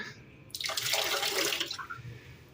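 Tap water gushes briefly from a faucet at night during household cleaning, a short, steady splashing rush that starts abruptly and fades within about a second, heard fairly softly with no voices.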